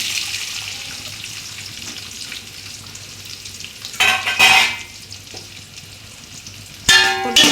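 Fennel seeds, curry leaves and onion fry in oil for duck curry, a soft steady sizzle broken by two louder bursts of splattering and stirring, with no voices.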